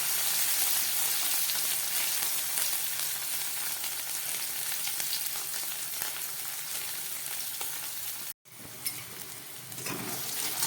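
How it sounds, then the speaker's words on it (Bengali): Potato pieces fry with salt in hot oil, giving a loud, continuous close sizzle and crackle that drops out for a moment near the end and then resumes. "নুন দেওয়ার পরে আলুটা একটু ভাজা হয়েছে"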